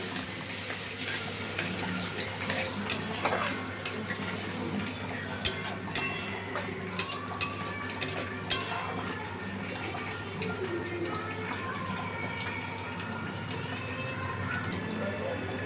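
A spice paste with cumin, coriander, chili powder and turmeric fries in a pan under a steady low sizzle while a metal utensil scrapes and clinks against it in irregular bursts, the clatter thickest midway.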